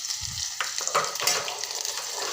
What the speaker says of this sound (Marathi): तेल आपलं छान कळकळीत तापलेलं आहे तर मी आता कांदा सोडत आहे